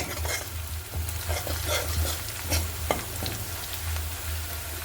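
Onion with grated coconut and green chili frying in a pan: a dense, close sizzle broken by repeated scraping stirs and a sharp clink, with a steady low hum underneath and no speech.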